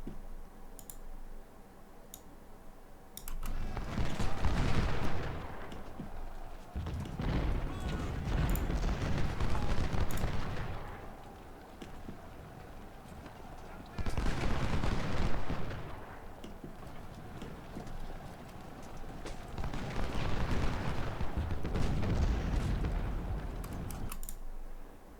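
Musket volleys and cannon fire roll across an Ultimate General: Civil War battlefield during a Union supply raid, coming in long rumbling waves that swell and fade, with crackling shots and clicks between them.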